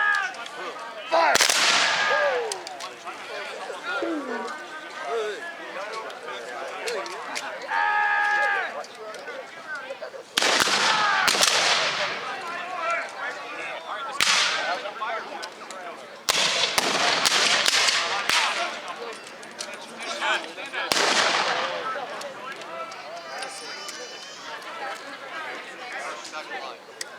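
Sharp rifle and musket shots crack out one by one and in ragged volleys at a battle reenactment raid, loud and echoing, spread across the scene with shouting and talk between bursts.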